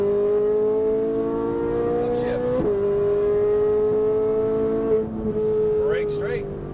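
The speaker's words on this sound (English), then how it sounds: "Lots of throttle now. Upshift." Race car engine at Las Vegas held under heavy throttle on track, a steady loud drone that dips briefly at an upshift and again near the end, with a coach talking over it.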